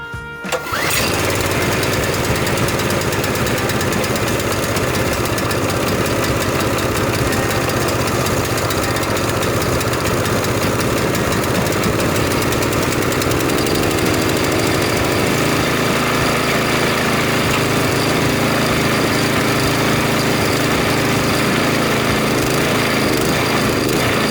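A Predator engine swapped onto a snow blower catches right after a brief pull-start rattle, then settles into a loud, steady idle at low throttle that runs without a break.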